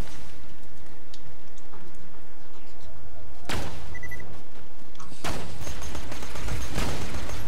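Enemy gunfire in the video game Borderlands 2: two loud bursts of shots land near the middle and end of the stretch over a busy, noisy game background with faint ticking.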